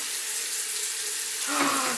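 Water runs from a tap at a steady low hiss, then grows louder and splashier for the last half second as the flow hits something, with no voices.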